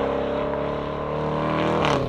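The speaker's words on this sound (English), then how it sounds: "But you still thankfully get plenty of exhaust note into the cabin, plus that supercharger whine" A 2022 Jaguar F-Pace SVR SUV with a supercharged V8 heard from inside the cabin, a steady droning exhaust note with a layered engine hum that rises slightly toward the end, no talk.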